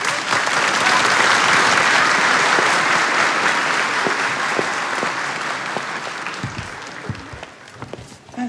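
Wedding guests at an evening reception give sustained applause for a jazz singer, a full, loud wash of clapping that fades over several seconds into scattered claps and faint murmur.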